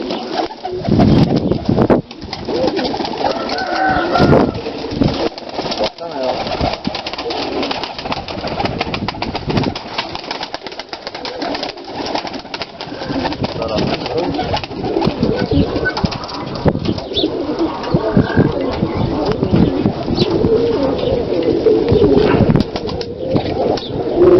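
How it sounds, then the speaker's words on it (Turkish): Pigeons in a coop coo and flutter their wings close by, continuous throughout, with faint voices now and then. "kuşlar gelsinler"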